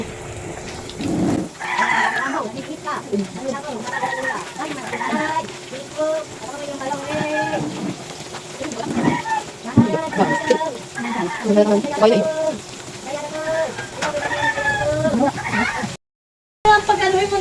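Food fries in a pan at an outdoor feeding program for senior citizens in a covered court, a steady sizzle running under lively overlapping voices and clatter throughout.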